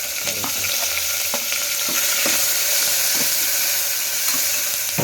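Slit green chilies and curry leaves fry in hot ghee for a rice and lentil pulagam, a loud, close, unbroken sizzle and hiss with occasional stirring knocks.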